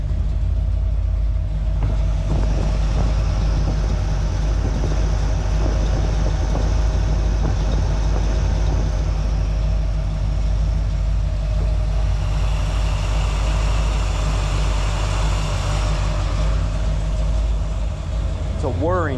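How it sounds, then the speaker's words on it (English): A running engine in a 1981 Corvette drones steadily and close, with a high whine from the alternator riding over the low hum for the whole stretch, and someone talks faintly underneath it. "It's a whirring sound, like woo."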